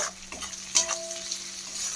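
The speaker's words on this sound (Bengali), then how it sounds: "নুন দিয়ে এটাকে আরেকটু ভেজে নেব" Steady sizzling of onion and capsicum frying in a pan with salt for chilli chicken, with soft stirring scrapes and a brief louder clatter partway through.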